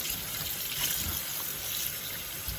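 Steady water running from a kitchen sink tap while squid is washed, a constant close hiss with no voices.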